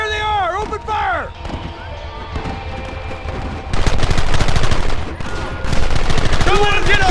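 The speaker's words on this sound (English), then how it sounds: "There they are! Open fire!" Loud, sustained gunfire from a Red Dead Redemption shootout, with rapid overlapping shots that grow denser and heavier partway through, and voices shouting under the battle.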